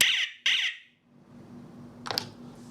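A Chuango SPS-260 wireless strobe siren gives two sharp, loud electronic beeps in quick succession during a factory reset, followed by quiet hum and a brief faint click.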